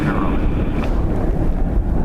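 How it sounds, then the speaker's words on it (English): Strong wind buffeting a covered microphone outdoors at Dublin Airport, a loud continuous low roar with steady rumbling and no break. "otherwise you're only going to hear wind"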